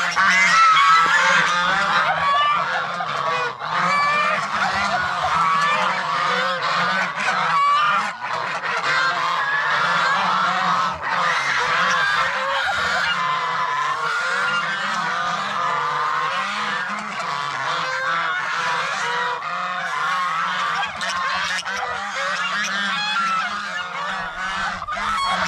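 Geese honking nonstop in an enclosed pen shared with turkeys, a dense, loud, overlapping chorus of harsh calls that carries on throughout without a break.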